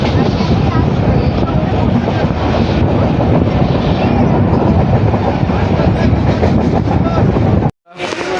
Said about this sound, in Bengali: ট্রেন এখন আমাদের ছেড়ে দিল বাতকুল্লা থেকে